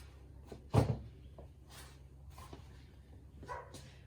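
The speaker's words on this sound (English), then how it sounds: "We got barking dogs and leaf blowers and cars driving by." A few scattered dog barks from some distance away in a residential neighborhood, one louder bark early on, over a low background hum.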